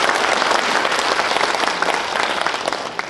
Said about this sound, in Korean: 다시 한번 감사의 박수 드리겠습니다